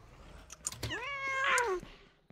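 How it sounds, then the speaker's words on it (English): A single drawn-out, strained cat meow in the Ranch Simulator video game rises and falls over about a second, close and clear against faint clicks and a quiet background. "The cat sound like I stepped on its tail."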